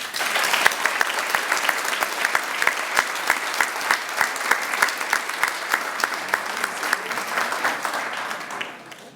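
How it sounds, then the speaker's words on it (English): A banquet audience at a school co-op awards dinner breaks into steady, dense applause lasting about nine seconds, many hands clapping together before it tapers off at the end. "Please give a round of applause to another of this year's winners"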